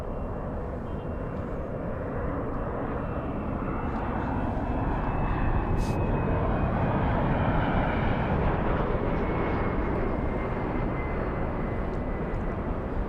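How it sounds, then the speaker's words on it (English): A JetBlue jet airliner at Los Angeles International Airport gives off a loud, continuous engine roar that holds steady throughout, with no talking over it. "We have JetBlue 1124 flying to JFK."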